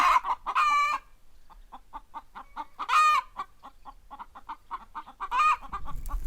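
Chickens cluck in rapid, steady bursts nearby, broken up by a few loud, drawn-out squawking calls.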